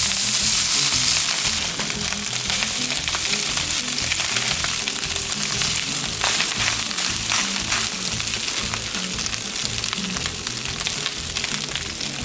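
Carnitas crisping in a pan of very hot oil, a loud, steady sizzle and crackle running close up throughout with no talking.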